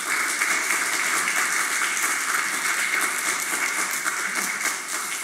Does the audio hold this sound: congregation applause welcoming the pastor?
yes